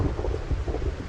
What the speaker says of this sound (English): And now I'm gonna be trying to talk over this really loud thunder.